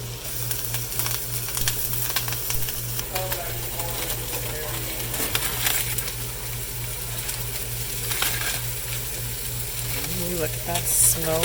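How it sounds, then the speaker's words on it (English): Smoked turkey pieces fry in a pan with a bright, continuous sizzle and crackle, overlaid by a steady low mechanical hum and occasional clinks, loud and close throughout. "Just gonna fry these up a little bit"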